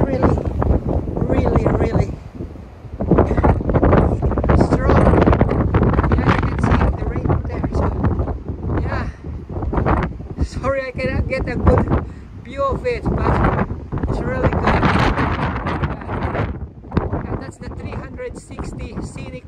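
Strong wind gusts at a scenic lookout in Port Kembla, buffeting the microphone in loud, close rumbling bursts while a person talks over it throughout.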